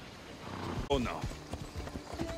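Horse hooves clip-clopping at a steady trot in Assassin's Creed Odyssey, moderately close, with a voice speaking over them.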